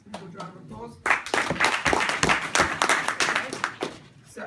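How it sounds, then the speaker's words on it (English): Audience at a small mind-reader stage show bursting into applause for a volunteer, after someone briefly speaks, dense lively clapping from a close room crowd that holds for several seconds. "Just a round of applause."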